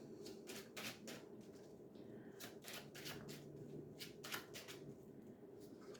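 Tarot cards are shuffled in a quiet room during a love reading, giving soft bursts of riffling and flicking that come in irregular clusters, close and faint, with no talking.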